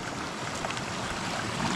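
Water streams steadily into a backyard fish pond along a walking path, a continuous close rushing wash with no break, fairly soft overall.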